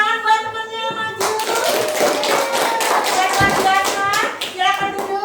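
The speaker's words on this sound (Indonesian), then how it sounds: "tepuk tangan buat temannya yang maju" Students in a classroom clap for a classmate who came to the front, a burst of scattered hand claps and taps with a teacher's voice before it and children's voices mixed in.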